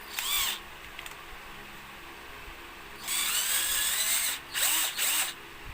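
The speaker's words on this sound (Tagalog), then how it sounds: "So binutas na lang natin, tapos panibagong thread na lang." A power drill boring out a stuck bolt on a KJWorks M92 airsoft magazine, whining in short high-pitched bursts, one brief at the start and then longer runs with pauses between, close and fairly quiet.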